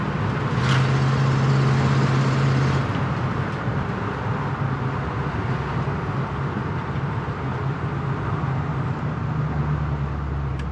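A 1980 Chevy Blazer engine idles down with a steady, low, even rumble under broadband road-like noise, and no voices.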